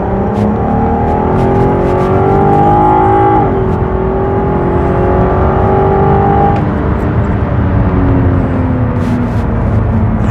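A 2007 Audi TT Roadster 3.2 VR6 Quattro with DSG accelerates hard at full throttle, its engine note rising steadily through the gears with quick shift dips, loud and close from inside the car.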